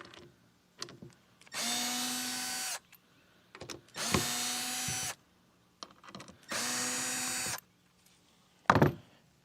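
A power drill removes a rod tube mount from an Old Town kayak, whirring in three separate bursts of about a second each, with clicks and handling knocks between them and a sharp clunk at the end.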